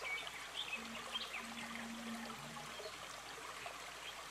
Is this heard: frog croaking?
no